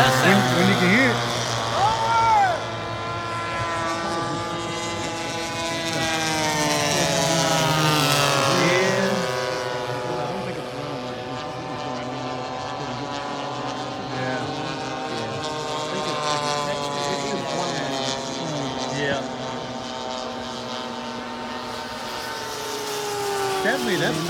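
A Phoenix Tucano turboprop airplane flies past, its steady droning engine tone swelling and shifting in pitch as it moves along, loud throughout, with people talking over it.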